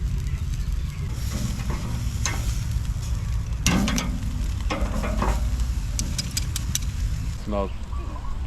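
Rump steak fries over an outdoor fire in Tahiti, a steady, close hiss and crackle running throughout, with a few brief clatters and faint voices in the background.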